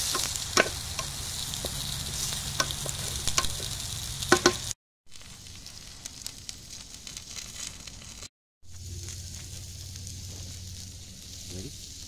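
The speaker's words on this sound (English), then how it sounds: "you're going to add 1 pound of ground turkey" A pound of ground turkey sizzling steadily in a hot pan for keto chili, with a constant frying hiss and occasional scrapes and clicks of stirring, briefly cut off twice.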